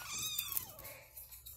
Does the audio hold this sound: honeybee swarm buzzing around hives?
no